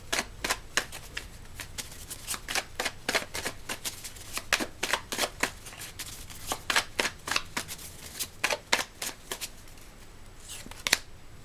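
Tarot cards being shuffled for a reading, close-up riffling and sharp slapping card snaps in irregular bursts over a quiet background, without speech.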